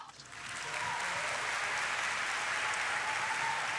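Applause from a small audience at a talk, building quickly in the first half second and then holding as a steady, moderately faint wash of clapping with no talk.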